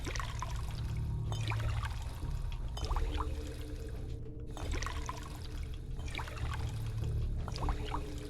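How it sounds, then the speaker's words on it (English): Quiet, repeated pouring and gurgling of dirty water into bottles in Fallout 4, coming in several short fills with brief gaps and no voices. "You just fill all these bottles with dirty water"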